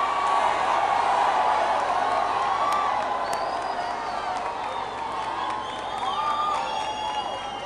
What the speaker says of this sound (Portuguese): Esse aplauso é para o Senhor, faça melhor.